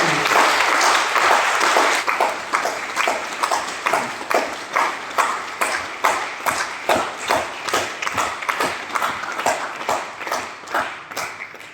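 Audience clapping in a seminar hall during a sales and marketing talk in Lucknow, a dense burst of applause that settles into slower, rhythmic unison claps, each clap sharp and distinct, with no talk over it.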